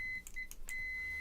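Multimeter continuity test sounding a steady high-pitched beep while checking an addressable LED house sign, with brief interruptions and clicks of the probes, fairly faint over background noise.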